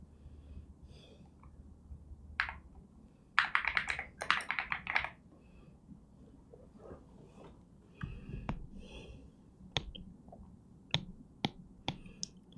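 Computer keyboard typing comes in irregular bursts of quick clicky keystrokes, some dense flurries and some isolated taps, close up with no speech.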